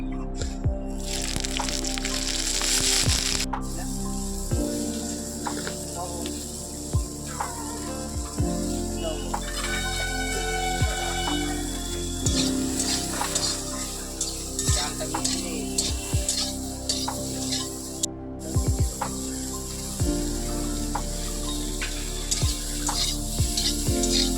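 Cumin and ginger frying in mustard oil in a pan, a continuous close sizzle with occasional stirring clicks and scrapes, while a voice speaks intermittently over the cooking.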